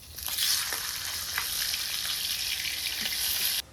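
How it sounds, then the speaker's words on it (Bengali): Katla fish fries in hot oil in a pan, a loud close steady sizzle with faint stirring clicks, running alone without speech until it cuts off abruptly. "এই মাছেরও একটি ভাজা হয়ে গেছে"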